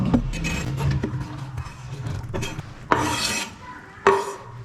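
Chopped vegetables, bell pepper and carrot, go into a pan for hot and sour soup and are stirred, with scraping and rubbing strokes, a few utensil clinks and two louder sizzling bursts near the end.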